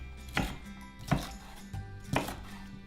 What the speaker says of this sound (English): When you're chopping peppers, always cut them the side that's not the shiny side because it's much easier to cut.